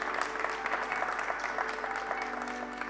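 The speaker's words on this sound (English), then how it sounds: "Ladies and gentlemen, can I have applause for him?" Audience applause fills a game-show studio, steady dense clapping from a crowd held at an even level throughout, with no voices rising above it.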